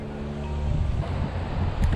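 Strong wind blows outdoors by the water during fishing, a loud, close, continuous low roar buffeting the microphone throughout.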